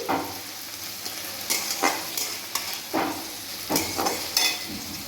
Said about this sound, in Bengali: দিয়ে দিচ্ছি কাঁচা লঙ্কা কুচি এবং টমেটো কুচি। খুব ভালোভাবে এটাকে আমি ভেজে নিচ্ছি।